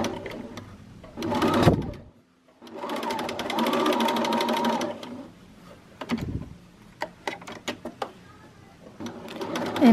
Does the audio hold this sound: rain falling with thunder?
no